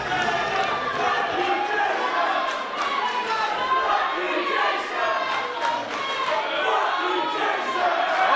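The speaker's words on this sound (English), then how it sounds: "Listen to the crowd, the CPW fans." Fans at a CPW wrestling event cheer and roar loudly and steadily throughout, a dense wall of crowd noise with shouts and whoops rising and falling.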